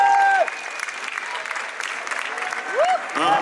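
A large audience claps and cheers at a Halloween film premiere in the Grand Rex cinema in Paris. The dense, continuous applause fills the hall, with a few whistles rising above the crowd.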